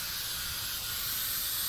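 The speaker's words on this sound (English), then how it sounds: "you want to go ahead and spray it where the tombstone is actually going to be placed" 3M Super 77 spray adhesive hissing steadily from an aerosol can onto a board for a DIY Halloween tombstone, a close, loud, continuous spray with no talking.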